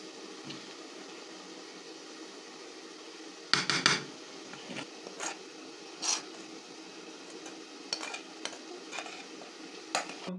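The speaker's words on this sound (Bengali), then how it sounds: "এরপর একটি বাটিতে আমরা কড়াই থেকে নামিয়ে নেব।" Fried okra cooked in mustard oil is scraped out of a kadai into a bowl: scattered metal clinks and scrapes of a utensil, a few sharper knocks, over a low steady background hum, with no talking.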